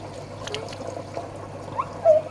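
Pet fish Spike in a saltwater aquarium spitting jets of water, giving faint trickling and splashing with a brief sharper splash near the end.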